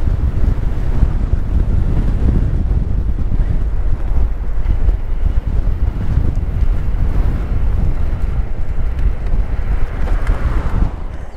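Steady, loud wind buffeting the microphone beside the ocean at Crescent City on a late-afternoon trike ride, a continuous low roar with faint surf mixed in and no speech.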